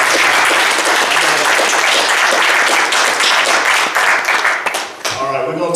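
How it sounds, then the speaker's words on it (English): A church congregation bursts into loud, sustained applause, with dense hand clapping filling the room before it tapers off near the end. "y'all give them a hand clap for all that"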